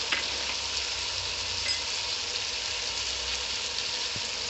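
Salt, turmeric and chili powder fry in hot oil for a drumstick pickle, giving a steady, even sizzle that holds close and unbroken throughout, with no voices.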